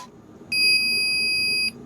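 A Sense double ESS sound module gives a loud, steady electronic calibration beep lasting about a second, piercing and close over a faint background hum.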